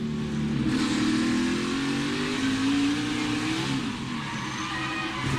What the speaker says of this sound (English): Riding along, you listen to the throttle.